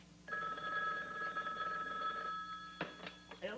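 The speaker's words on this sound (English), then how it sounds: "Oh, telephone. Wonder how long that's been ringing." A telephone bell rings indoors in a steady, close, continuous burst lasting about two seconds, then stops and gives way to a few brief knocks and clatters.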